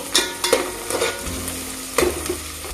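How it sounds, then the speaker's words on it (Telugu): Onions fry in a pan for mushroom biryani, cooked until golden, with a steady sizzle broken by loud scraping stirs at regular intervals, close and without talk. "ఈ ఆనియన్స్ గోల్డెన్ కలర్ వచ్చేంత వరకు అయితే వేయించుకోవాలి"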